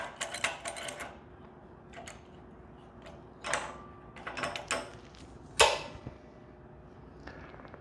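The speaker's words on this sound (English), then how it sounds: "And then we will clamp this down." Metal clamps are fastened onto a steel frame for a wood-slab cart before welding: a sparse series of sharp clicks, snaps and clanks, close and dry, with quiet pauses between them.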